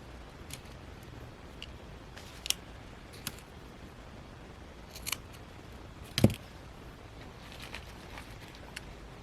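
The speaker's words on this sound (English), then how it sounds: "I have to just cut it." Scissors cut material for a shabby chic junk journal notebook cover, giving a few sparse, sharp snips and clicks spread over a quiet background, with one louder cut near the end.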